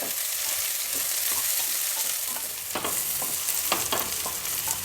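Vegetables sizzle loudly in hot oil for a pulao made from a frozen pre-mix cube, a dense, continuous crackle with scraping stirs rising now and then, close and without voices.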